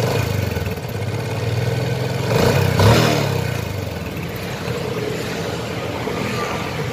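A 2010 Yamaha Exciter motorcycle idles with a steady, throbbing exhaust, briefly rising in a light rev midway before settling back to its even idle.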